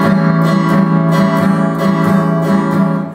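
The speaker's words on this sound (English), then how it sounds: "So if you were to do it and to strum all of the strings on the up and down strokes," A guitar is strummed across all strings in a steady rhythm of down and up strokes, loud and close, with each stroke giving a bright percussive scrape over sustained ringing chords.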